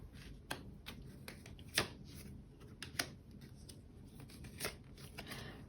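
Tarot cards are shuffled and drawn by hand, giving soft, close riffling with several sharper snaps and slaps of cards spaced irregularly, quiet and without talking.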